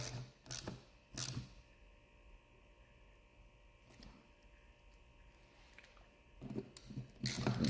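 A ratchet snugs up bolts on a Ferrari 348 during clutch and throw-out bearing work, giving short bursts of clicking separated by quiet pauses, close and faint.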